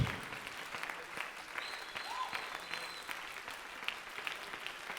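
A church congregation at an Easter seminar applauds for the Lord, steady dense clapping filling the hall at a moderate, fairly distant level with no voices rising above it.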